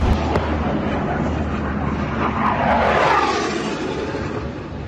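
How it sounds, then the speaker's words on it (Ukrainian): Aircraft pass overhead near Sudzha in Russia's Kursk region during fighting, a broad roaring engine drone that swells toward the middle and stays loud and steady throughout, with no talk. "Тут самоліти над головою, прикинь, літають"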